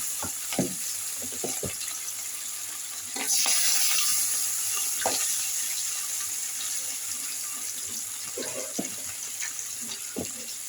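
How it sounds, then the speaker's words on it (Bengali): Rui fish pieces frying in hot oil for a mustard curry, a steady hissing sizzle that swells louder partway through, with scattered clinks and stirring knocks nearby, no talk. "সবগুলো মাছ এবার তেলে ফেলে ভেজে নেব।"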